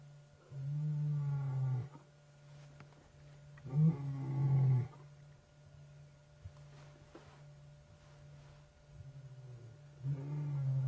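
Lions on a safari drive give deep, rumbling roars in three bursts across the stretch, fairly close, separated by quieter pauses with low background hum.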